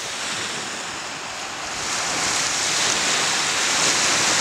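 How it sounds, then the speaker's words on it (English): Waves wash steadily onto the shore at Munising at daybreak, a loud continuous surf roar that swells slightly partway through, with wind noise and no talking. "I'm just doing some waves."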